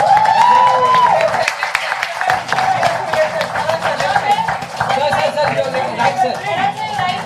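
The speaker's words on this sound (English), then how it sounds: "Big round of applause, ladies and gentlemen." Applause from an audience at a book launch for Karan Anshuman's 'Kashmir Nama' with Farhan Akhtar, a dense, steady patter of clapping that continues throughout, mixed with crowd chatter and voices.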